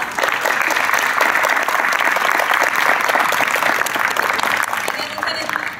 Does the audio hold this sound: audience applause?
yes